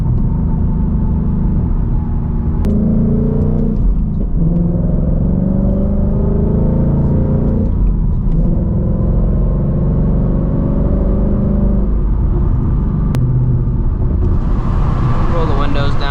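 Ford Mustang GT S650 V8 engine heard from inside the car while driving, a steady loud low rumble with rising and falling revs across the whole stretch, with faint talk partly under it.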